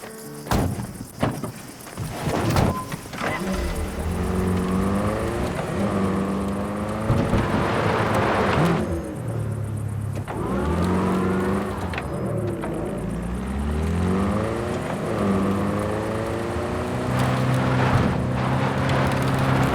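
A car driven in Cyberpunk 2077, engine tone rising and falling through repeated accelerations and gear changes, with thumps and bumps along the way, steady and close throughout.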